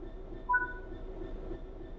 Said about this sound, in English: the British Rail Class 66 is a 6-axle diesel-electric locomotive, used primarily for freight operations in the UK